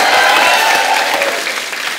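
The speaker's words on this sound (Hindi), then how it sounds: "रेमो भी सुझे जोरदार ताली" Loud studio audience applause on a TV comedy show set, dense sustained clapping that tapers slightly toward the end, with no talking over it.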